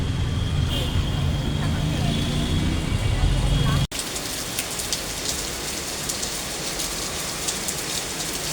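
Heavy rain pours down in a loud, steady wash, with traffic rumbling faintly beneath it and a brief break in the sound midway before the downpour carries on.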